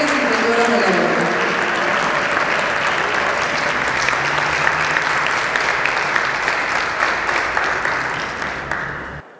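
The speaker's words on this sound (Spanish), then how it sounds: "Lo recibimos con un fuerte aplauso." Audience applause welcoming a speaker at a bioethics conference in San Juan, a dense, sustained ovation filling the room for about nine seconds, easing slightly toward the end, with some voices mixed in.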